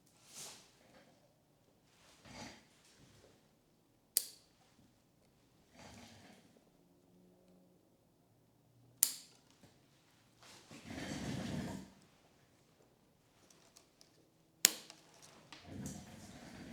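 Pruning cuts on a red maple stem in a forest planting give a few sharp, isolated snips and clicks spread across quiet gaps, mixed with faint rustling of branches and handling noise nearby.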